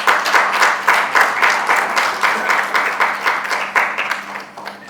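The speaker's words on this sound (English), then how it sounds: "Big round of applause." A gathering at a Mother's Day event in a goshala breaks into a big round of audience applause, dense rhythmic clapping that stays loud and steady for about five seconds with no talking over it.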